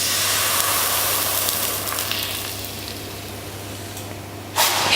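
Buñuelo dough fries in hot oil with a close, steady sizzle and hiss that eases slightly over time, then jumps with a sudden burst of crackling near the end.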